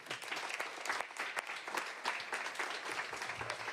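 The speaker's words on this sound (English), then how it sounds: "thank you for applauding for that." An audience at a mayor's public education announcement applauds, a moderate, continuous patter of many hands clapping, fairly quiet and steady throughout.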